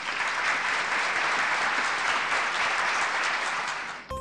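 Dense, steady applause from a large audience, loud and continuous for about four seconds before stopping abruptly, celebrating Sikkim as an organic state.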